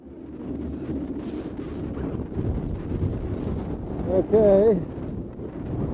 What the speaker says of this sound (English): a strong wind here is pressing it against the boom